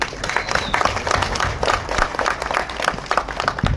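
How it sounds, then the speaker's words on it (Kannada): An audience at a Kannada film audio launch event claps in a lively, uneven burst, individual hand claps distinct within the moderate-level applause throughout. "ನಿಮ್ಗೆಲ್ಲರಿಗೂ ಒಂದು ಚಪ್ಪಾಳೆ ಬರಲಿ ಪ್ಲೀಸ್."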